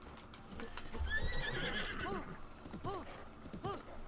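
Horses neigh repeatedly in shrill whinnies over a steady clip-clop of galloping hooves in Zelda: Breath of the Wild, with faint game background sound.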